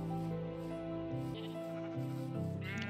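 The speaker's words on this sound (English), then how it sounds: "Oh, look at the sheep." Sheep in the Minecraft video game bleat in a quick series of wavering, nasal calls. The bleats are soft, clear and unbroken by talk.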